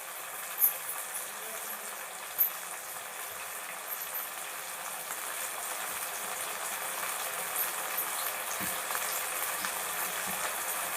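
Onions and tomatoes sauté in a pan for a roasted dried fish curry, giving a soft continuous frying sizzle throughout, with a couple of faint clicks near the start.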